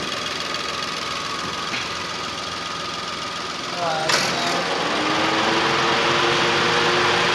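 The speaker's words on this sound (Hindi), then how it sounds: "इंजन बिल्कुल स्मूथ है" A Datsun Go car engine idles after being repaired for a misfire, a steady, fairly loud hum with a brief clunk partway through as the revs settle slightly higher.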